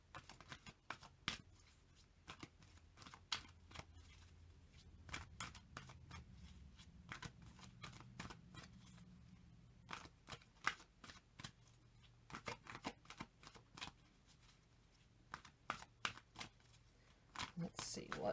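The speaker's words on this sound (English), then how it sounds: "Shuffle this one more time." Tarot cards are shuffled by hand in repeated quick riffles and slaps, crisp and close, with brief pauses between bursts and a soft low hum underneath.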